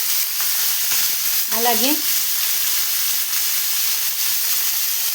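Green chillies, onions and tomatoes sizzle steadily in hot oil, a broad frying hiss running the whole time with a brief voice speaking partway through.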